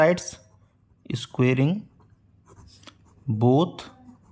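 A marker or chalk scratches across a board while a math proof is worked out. The writing is soft and intermittent, heard between and under stretches of a voice talking.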